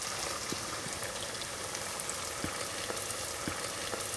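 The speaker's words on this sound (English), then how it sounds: "stick in a lumpia like that and see how it bubbles and it makes little crackling noises" Lumpia fry in hot oil with a dense, even sizzle of fine bubbling and scattered small crackles and pops, close and moderately quiet, with no voices.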